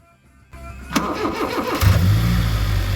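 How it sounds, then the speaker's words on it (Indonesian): A Honda Jazz GD3 with i-DSI engine is started by remote while locked with the handbrake on, cranking briefly then catching into a steady, loud idle close by. "Dalam keadaan pintu terkunci dan handrem aktif, mobil bisa saya hidupkan menggunakan remote"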